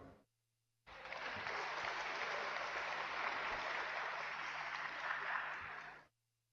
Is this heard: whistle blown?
no